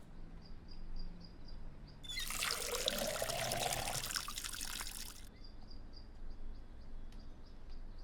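Water pours onto potted plants in the video game Schedule I, a steady splashing trickle lasting about three seconds over a quiet background with a faint repeating chirp.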